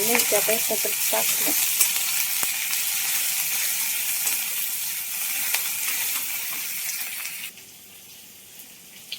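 Onion and green chilli frying in a pan for poha, a steady close sizzle with some stirring and brief clinks, dropping to a quieter hiss near the end.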